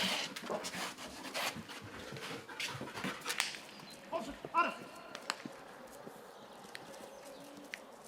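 A border guard search dog whimpers and pants nearby during a detection exam, amid shuffling movement and scattered clicks, with faint voices in the background.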